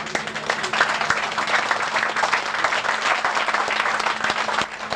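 Sustained applause from an audience at an outdoor broadcast of a Nigerian call-in program, a thick continuous patter of many hands at fairly loud level, dipping slightly near the end.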